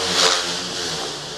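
A motorcycle engine revs hard close by, a loud, rough roar that swells early and then holds at a steady, buzzing pitch, with no talking over it.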